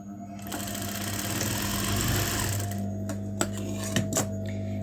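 A sewing machine stitches two cut fabric strips together to make a drawstring cord, running steadily for about three seconds, then stopping and giving a few short clicks near the mic.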